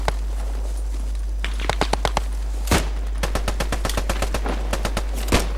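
Gunfire in the World War II shooter Post Scriptum: scattered single shots and short bursts crack out at varying distances, some sharp and close, others dull and distant, over a steady low hum with no talk.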